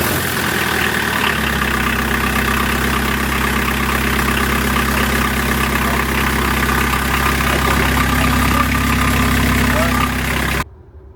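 A car engine starting for the first time after reassembly, then idling with a steady low rumble that stays loud and constant for about ten seconds before cutting out abruptly.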